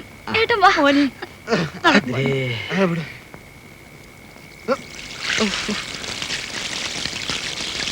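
Voices speak first, then water drawn from a well in a bucket is poured over someone's head, a steady, close splashing gush that runs on to the end.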